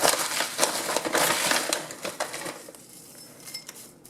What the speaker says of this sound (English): now we need to carefully fill around it with some more of our orchid potting mix